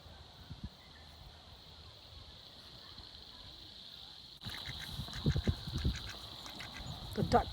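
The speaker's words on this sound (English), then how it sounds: "The ducks heard me rattling the paper and they all came running." Ducks at Yanchep National Park quack in short bursts as they come running, near and loud in the second half after a quiet outdoor stretch with faint ambient hum.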